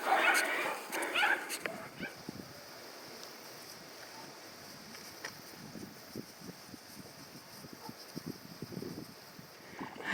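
Several tethered dogs bark from yards across a Carpathian village in the morning, a scattered, distant chorus of barks and yips rising louder at the start and continuing faintly throughout.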